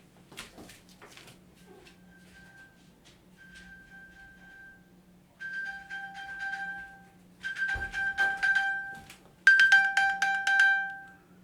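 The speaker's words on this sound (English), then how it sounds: "the iPhone will play a sound" An iPhone plays the Find My iPhone alert, a run of bright repeating electronic chimes in bursts that grow louder, heard alone in a quiet room.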